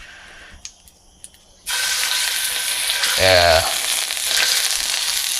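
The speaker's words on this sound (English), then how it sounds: "When you get it on there nice and hot and hear that sizzle, that's how you know you're good." Chicken thighs laid skin side down in a hot cast iron pan burst into a loud, steady sizzle that continues after a few quiet clinks, with a brief spoken word near the start.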